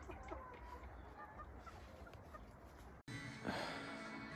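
Chickens in a polytunnel cluck and squawk as a busy, continuous flock chorus, close and steady, with a brief cut partway through before the clucking resumes.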